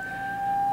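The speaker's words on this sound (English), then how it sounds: "Oh, there's the siren." An outdoor warning siren sounds its midday test, one steady, unwavering tone held throughout, clear over faint background hiss and gradually swelling a little louder.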